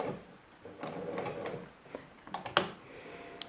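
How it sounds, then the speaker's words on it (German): A sewing machine stitching around a circle of old denim jeans fabric, with short uneven runs of mechanical whirring and clicking broken by pauses, close by and fairly quiet. "Wir legen die Außenkante unseres Füßchens an unsere Nahtkante an und wir steppen einmal um unseren Kreis herum."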